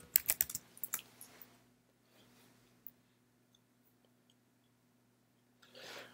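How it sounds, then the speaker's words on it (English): A quick flurry of keystrokes typing a password on a Mac keyboard, close and crisp, followed by a few faint isolated clicks and near silence. "Type your password."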